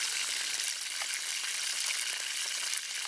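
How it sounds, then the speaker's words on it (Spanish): Guinea pig (cuy) frying in oil over a low flame, heard as a steady, close hiss of fine bubbling and crackling sizzle throughout, with no talking. "Está friendo el cuy."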